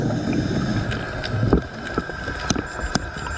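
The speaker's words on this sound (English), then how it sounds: "That other noise you can hear, like the humming, is a boat above me." A boat passes overhead, heard underwater by a scuba diver hunting halibut: a muffled, steady hum with faint clicks and crackles, moderately quiet throughout.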